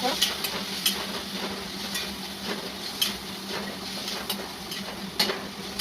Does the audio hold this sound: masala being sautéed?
yes